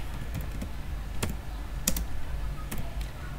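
Keys on a computer keyboard clatter in a few sparse, distinct taps over a steady low hum, close and moderately loud with no voices.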